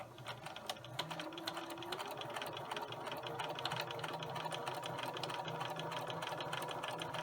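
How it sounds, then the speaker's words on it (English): A sewing machine stitches along a marked line on fabric for a pumpkin mug rug, its needle clattering in a fast, even rhythm with a steady motor hum, close and fairly quiet. "we're going to go to the sewing machine and we're going to sew along the"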